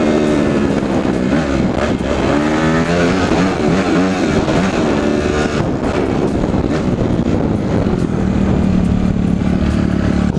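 A motorcycle on a ride with a rider and her sister, heard up close as it accelerates. The engine rises in pitch, drops at each gear change, then climbs again as it keeps moving along.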